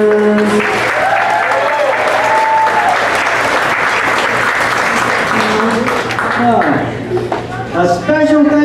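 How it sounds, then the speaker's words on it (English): Sustained audience applause at a live Broadway Golden Era singers' show at Treblemakers, dense clapping filling the room throughout with a few voices and cheers poking through near the end. "Let's give a big round of applause to the wait staff and Treblemakers."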